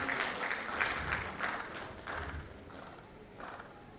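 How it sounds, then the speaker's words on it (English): An audience at a school annual day claps in a steady, moderately loud burst that thins out toward the end, with a faint murmur underneath. "Let's give him a huge round of applause"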